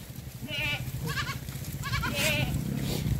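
A mixed flock of sheep and goats, young and adult, moving through dry farm fields, bleating in several overlapping calls over steady outdoor background noise.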